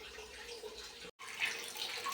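Tap water runs steadily into pots and containers at home, a soft continuous splashing stream with one brief break partway through.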